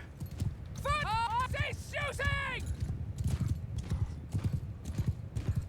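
Horses in a Mount & Blade II Bannerlord battle clip-clop in a rapid galloping rhythm, with two loud whinnies near the start over ongoing hoofbeats.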